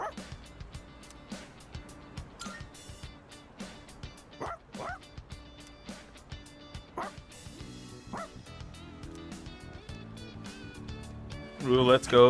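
A dog barks in a Persona 3 Reload game trailer, giving a run of short yips and woofs spaced across background music, with voices talking over parts of it.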